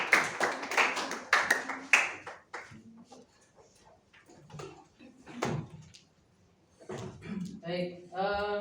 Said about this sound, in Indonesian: tepuk tangan untuk kelompok yang